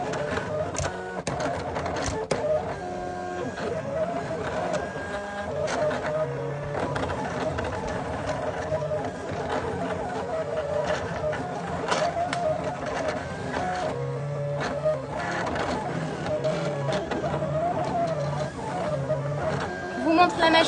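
A Silhouette cutting machine whirs and clicks steadily for about twenty seconds, its small motor buzzing in busy bursts as the carriage moves.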